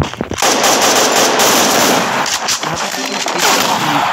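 Dense, rapid gunfire bursts from a mobile shooter game, loud and close, rattling almost continuously with brief gaps, with a voice speaking over the shooting.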